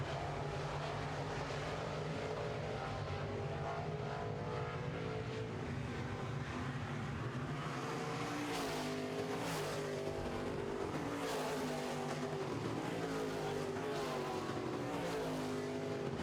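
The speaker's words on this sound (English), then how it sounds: "down the front straightaway with about a 5-car length lead over the Trunks and Grain 22 of Rick Hamill." Midwest Modified race cars running a heat on a dirt oval, engines droning continuously as a pack roars past, with rising and falling revs and no talk over it.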